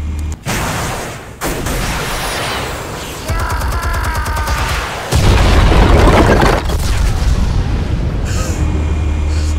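Explosives detonating on a tower in Batman: The Telltale Series, a sustained loud blast texture with rumbling low end, crackling debris and a heavier boom surging midway, then continuing roar.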